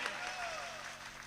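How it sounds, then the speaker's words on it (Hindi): Faint, steady applause from an audience at a Hindi comedy shayari performance continues briefly as a smooth wash of clapping. "एक बार तालियां बजा दीजिए।"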